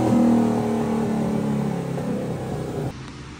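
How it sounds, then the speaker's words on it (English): A race car engine revs hard and loud, its tone climbing steadily for nearly three seconds before it cuts off abruptly into a quieter idle. "So, Lee, the race car is back in action."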